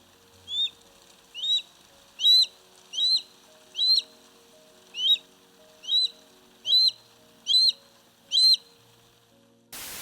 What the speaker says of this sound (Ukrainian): Його голос протяжний, трохи жалібний крик, який часто звучить над відкритими просторами.